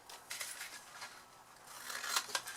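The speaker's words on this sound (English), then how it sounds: "then on the smaller pieces we're going to cut the horizontal line" Scissors snipping through card pieces for a double jumbo tealight box, a few soft crisp cuts near the microphone with short pauses between them, quiet overall, with no talking.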